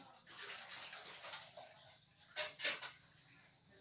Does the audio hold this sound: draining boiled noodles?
yes